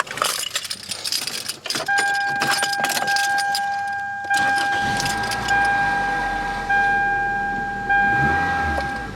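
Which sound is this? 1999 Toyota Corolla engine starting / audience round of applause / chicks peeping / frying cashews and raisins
1999 Toyota Corolla engine starting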